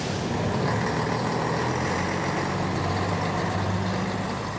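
Heavy trucks and buses rumble through congested street traffic in a Cascavel neighborhood, a steady, loud, dense engine drone with idling and possible air-brake hiss throughout.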